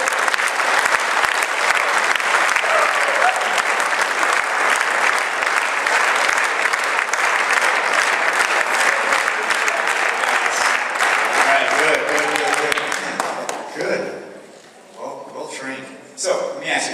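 An athletic banquet audience claps along in a loud, steady, fast rhythm for most of the stretch, the clapping thinning and breaking up near the end as voices and cheers come through.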